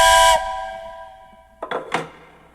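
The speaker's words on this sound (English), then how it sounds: "That train whistle wasn't lonesome enough." Steam-style train whistle blown in a live music podcast setting, a loud sustained hissing blast with clear tonal harmonics lasting about a third of a second, followed by two shorter, softer breathy toots after a pause.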